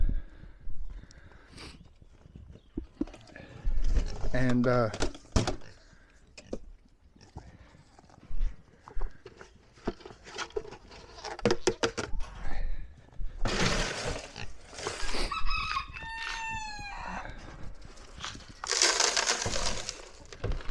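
Farm goats jostle and scuffle over food, with crunching, thumping hooves, rattling feed and a couple of sharp bleats, while someone speaks briefly nearby.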